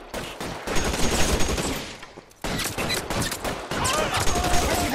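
Rapid gunfire in the crime game L.A. Noire, loud bursts of overlapping shots filling the first two seconds, a brief lull, then another sustained volley mixed with chatter.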